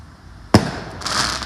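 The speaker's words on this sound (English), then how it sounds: "Let's see some rockets." A firework rocket goes off outdoors at a night celebration with one sharp, loud crack, followed by crackling bursts and sizzle a moment later.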